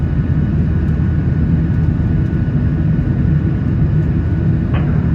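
A Boeing 737-900 jet taking off from Atlanta, a loud continuous low roar and rumble of engines heard steadily from inside the cabin.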